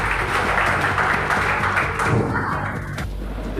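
Crowd applause welcoming a guest at a Bihar Skill Development Mission ceremony, a dense, steady wash of clapping sustained throughout before easing near the end.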